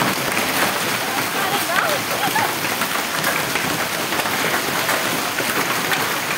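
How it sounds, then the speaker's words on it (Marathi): Heavy hail and rain pouring steadily in Dhule, a dense, continuous hiss with scattered sharper impacts close by, lasting throughout with no pauses; a voice may sit faintly beneath it. "धुळ्यामध्ये आपण पाहतोय गारपिटीचा पाऊस झाला"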